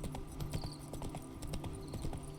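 Horse hooves clip-clop steadily in The Witcher 3, a rhythmic run of hoofbeats over a continuous game soundscape, with a faint high chime now and then.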